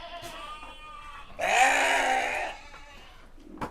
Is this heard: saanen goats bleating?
yes